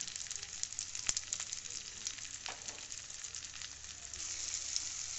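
Sliced tomato sizzling in a pan with ginger and garlic, a steady close, bright frying hiss with small crackles and pops throughout, no talking.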